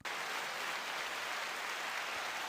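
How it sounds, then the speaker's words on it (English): A short burst of steady, dense applause on a podcast, starting abruptly and holding at an even level with no voices over it. "let's go for a round of applause"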